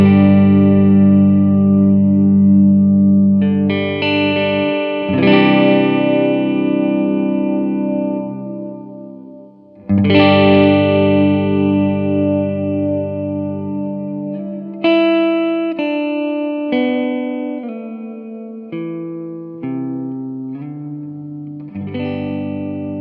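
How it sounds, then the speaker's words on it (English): Guitar played through a Big Sky reverb pedal, with sustained chords and single notes whose reverb tail swells up and blooms after each attack, ringing loudly with no talk. "So right now we're going to set it to have the reverb swell up."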